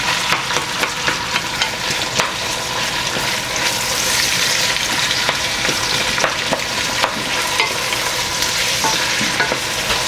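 Chopped onions sizzle steadily in reused frying oil in a pan for a Senegalese fish yassa, a loud continuous hiss and crackle broken by repeated scraping stirs, with no talking.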